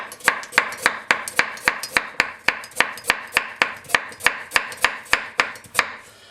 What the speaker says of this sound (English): we can take a couple carrots, and you can just see.